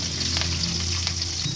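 Mustard seeds and curry leaves sizzle steadily in hot oil while tempering for vermicelli upma, a close, continuous hiss with light crackles and no talking.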